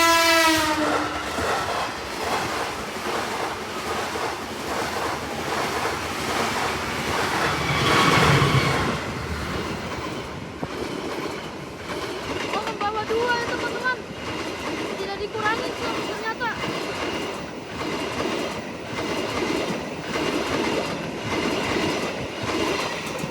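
The Bromo Anggrek passenger train of luxury and executive coaches, hauled by a CC206 locomotive, rolls past with a steady rumble and rhythmic wheel clatter, and a horn sounds near the start, while someone talks over it.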